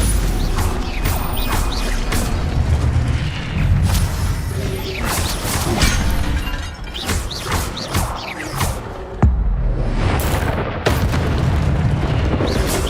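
Spell blasts from Hogwarts Legacy combat, with a Stupefy stun spell among them, land as repeated loud booms and crashing impacts over a dense, mechanical game soundtrack, continuous and close throughout.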